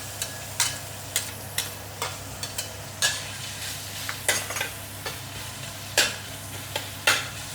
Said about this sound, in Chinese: 慢慢火炒